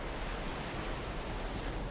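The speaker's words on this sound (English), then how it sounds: "Waves roll underneath the surface." Ocean waves roll onto a sandy beach in a constant, broad wash of surf, even and unbroken, with no one speaking.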